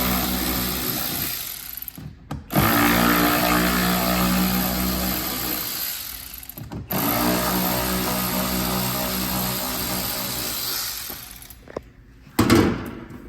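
A power tool whirs in several sustained bursts as three factory bolts come out of a 2020 Toyota Highlander fourth generation for splash guard fitting, close and fairly loud, with short pauses between runs.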